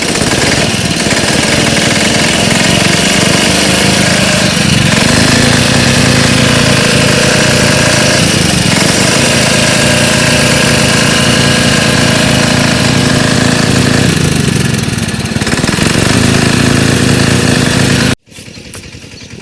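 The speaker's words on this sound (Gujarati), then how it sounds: "તો અહીં ફાઇનલી ચાલુ થઈ ગયું ટ્રેક્ટર આપણું" A farm tractor's diesel engine, just restarted after a refill, runs steadily and loudly close by, its rough mid-range chug continuous until it cuts off abruptly near the end.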